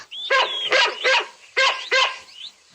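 A dog barks five times in a quick, uneven series, close and loud, with a short whine between barks.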